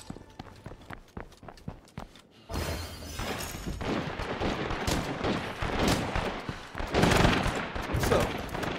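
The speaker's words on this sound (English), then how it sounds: "Hi, sorry about all the gunfire." Gunfire in the video game State of Decay 2: a few sharp, separate shots, then a loud, dense, continuous volley of rapid firing that swells toward the end.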